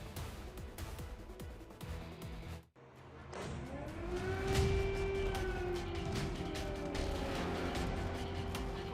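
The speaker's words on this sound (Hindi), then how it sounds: "रात का सन्नाटा और फिर अचानक सायरन की चीख।" An air raid siren wails at night in wartime Ukraine, rising after a brief cut into a long sustained tone that carries across open air. Heavy rumbling noise sits underneath, and no one speaks.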